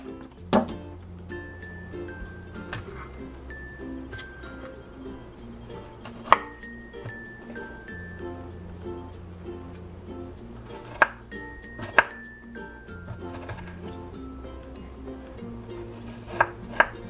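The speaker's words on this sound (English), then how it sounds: "we're actually going to take half a cup of strawberries in this case and slice them up." Knife slicing through half a cup of strawberries on a board, a few sharp isolated taps at scattered moments over a steady background of soft music-like tones, no talking.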